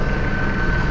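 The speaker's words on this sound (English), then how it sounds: "Helicopter doing circles." A helicopter circling over a street in Compton, Los Angeles: a steady, loud broadband rotor and engine roar filling the whole moment, with no talk over it.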